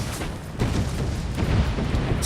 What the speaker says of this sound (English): So much explosions.